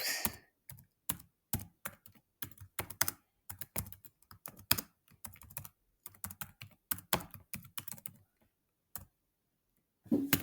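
Quiz answers being typed on a computer keyboard: quick bursts of close, crisp key clicks separated by short pauses, with a longer gap near the end and no talk.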